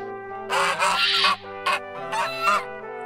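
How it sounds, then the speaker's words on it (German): Geese honk and cackle in a few loud, clustered bursts from a goose shed, set against a sustained musical background. "Doch durch ihr Geschnatter verrieten ihn die Gänse"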